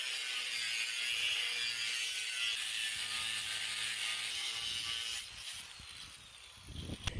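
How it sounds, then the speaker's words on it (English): A SUHNER grinder cuts into steel with a continuous high, hissing whine that holds steady for about five seconds and then drops off, leaving quieter clatter as the tool winds down. "Now let's see how the SUHNER grinder works on steel."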